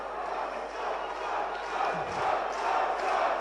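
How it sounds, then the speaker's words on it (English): A boxing match crowd roars and cheers after a body shot, a broad sustained swell of voices rising slightly toward the end. "The crowd appreciated that body shot."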